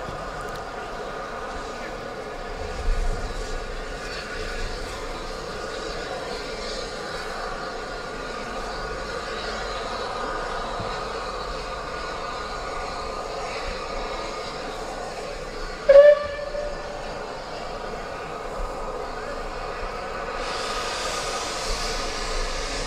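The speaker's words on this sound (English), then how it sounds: "Looking at our train in the distance, alongside the locomotive as she approaches" Steam locomotive Lord Dowding on the West Somerset Railway at an autumn gala, approaching with a train of coaches; a steady rumble and drone of rolling stock continues throughout, with a brief whistle-like tone near the middle.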